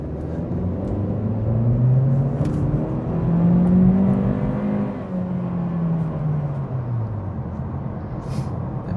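A new Acura Integra with a CVT accelerates from a stop, its engine rising in a smooth, steady drone that climbs and holds without distinct gear shifts, close and fairly loud inside the cabin.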